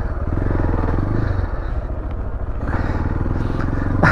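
A 2019 Beta Alp 4.0 motorcycle being ridden along a lane, its engine loud and close with a steady throbbing drone, a slight dip and then a rising rev near the end.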